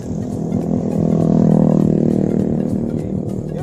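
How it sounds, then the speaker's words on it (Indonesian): Motorcycle with a dual sprocket setup pulling away in first gear on a light throttle, a loud close engine note that swells and then eases as it moves off, with no talk. "Jadi kita cukup gigi satu ya, gasnya sedikit saja maka motor akan jalan dengan sendirinya."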